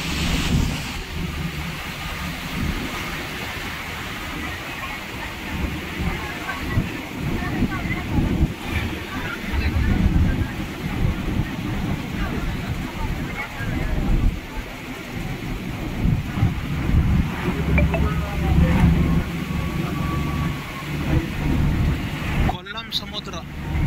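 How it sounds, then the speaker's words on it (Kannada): Sea waves and wind roar steadily and loudly at Kollam beach, a dense continuous wash of surf and gusts that fills the whole stretch. "ಕೊಲ್ಲಂ ಸಮುದ್ರ,"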